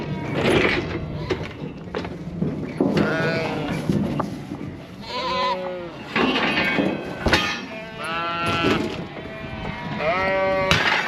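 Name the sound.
sheep and lambs bleating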